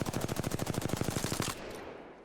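Automatic gunfire in Apex Legends fired without jitter aim, a fast even burst of about twenty close, loud shots lasting about a second and a half, then a fading reverberant tail.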